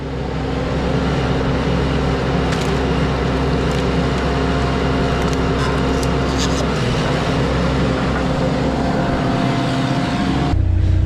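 A hydraulic log splitter mounted on a mini skid steer drives through an ash log, with a steady loud engine drone and hydraulic whine running throughout and a brief shift in tone near the end.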